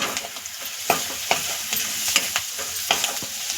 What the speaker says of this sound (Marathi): हे सगळं आपण मसाले एकदम मिक्स करून घेऊया ह्यामध्येच थोडीशी कोथंबीर पण टाकू आपण आणि हे परतून घेऊया जरा